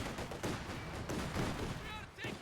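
A T-70 tank in Company of Heroes 2 letting off rapid, punchy shots amid a busy battle din, with dense gunfire bursts stacked close together and some voice-like tones faintly underneath.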